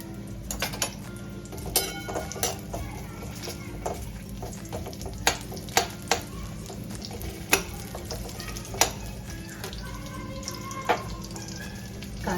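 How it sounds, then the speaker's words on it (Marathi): Onions sauté in a spoonful of oil for a Maharashtrian patwadi rassa, a steady soft sizzle with intermittent sharp clicks of a spoon stirring against the pan, close and moderately loud with no talking. "तेलात आपण छान कांदे लाल होईस्तोवर परतून घेऊ."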